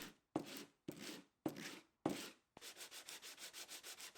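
Rhythmic sanding of wood veneer edges: four long rasping strokes with brief pauses, then a quicker run of short back-and-forth scrubs, close and clear.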